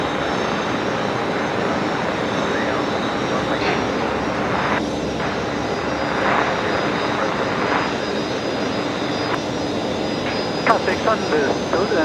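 Aircraft engines roar steadily at Brisbane Airport at night, a loud continuous jet drone with a wide rumbling spread that holds throughout, while radio voices talk over it.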